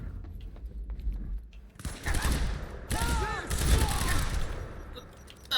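Shotgun fire in the video game Quantum Break, a heavy burst of gunfire and rapid shots with game effects, loud and close, mixed with other in-game sounds and a voice.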